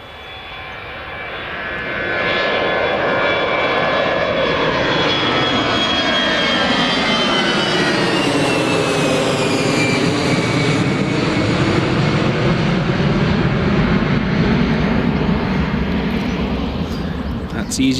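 An EasyJet passenger jet takes off from runway 25 at Newcastle Airport, its engine roar building quickly and holding loud and steady, with a rising then falling whine as it climbs away.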